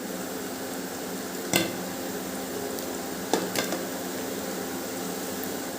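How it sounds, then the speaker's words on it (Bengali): Round jackfruit seed fritters frying in hot oil, a continuous even sizzle with a couple of faint clicks from the pan, no voices. "এরকম করে গোল গোল করে বড়া করে ভেজে নেব"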